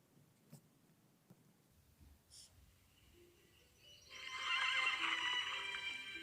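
A horse neighs in an app trailer, a loud whinny swelling in after several faint clicks and taps and holding to the end.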